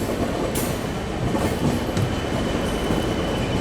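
The Secunderabad–Howrah Falaknuma Express rumbles along with a dense, steady roar of wheels and carriages, brief squeals and clicks breaking through, heard close and loud from on board with no one speaking.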